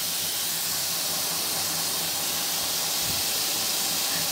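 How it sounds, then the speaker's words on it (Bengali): Water hits curry in a hot frying pan, giving a steady, loud sizzling hiss that runs through the whole stretch without a break. The dish is a shrimp curry with stalks and potatoes. "তারপরে একটু পানি দিয়ে দিচ্ছি যাতে হচ্ছে আপনার কষানোটাও একটু ভালো হয়"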